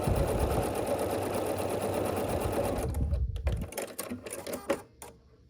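A sewing machine runs steadily for about three seconds stitching across a paper-pieced quilt seam, then stops, leaving a few quieter clicks and handling sounds close by.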